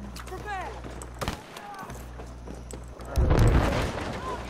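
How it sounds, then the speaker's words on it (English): A grenade explosion in Battlefield V lands as a heavy, booming blast partway through and rumbles on to the end. Earlier there are gunfire and chirpy game effects under a steady low hum. "I threw a grenade in there."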